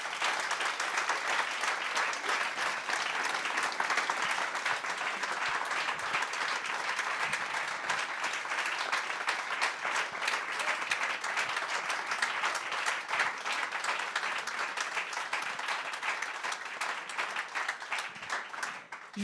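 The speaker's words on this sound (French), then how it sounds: "Je vous demanderai, s'il vous plaît, un tonnerre d'applaudissements pour Laura Flessel et Trésor Macounda." An audience at a French talk with sports champions gives sustained, dense applause that stays steady for nearly twenty seconds, with a faint murmur of voices underneath.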